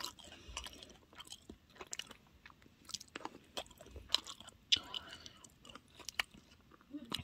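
Quiet, close chewing and crunching while someone eats pork cutlet (donkatsu), with irregular soft bites and crunches spread through the clip and faint background sounds.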